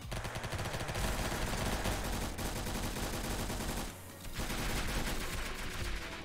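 Video game gunfire from a game called Arsenal, dense rapid bursts of shots sounding almost continuously, with one brief gap near the middle and no talk.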